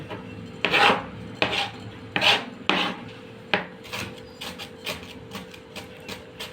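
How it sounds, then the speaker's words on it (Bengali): Onions are finely chopped with a knife on a chopping board, a run of close, crisp rasping strokes, loud at first and then quicker and lighter, with no talk over them. "চপারে রেখে পেঁয়াজগুলো অনিয়নটাকে কি সুন্দরভাবে কেটে নিল একদম কুচি কুচি কুচি কুচি কুচি কুচি কুচি করে"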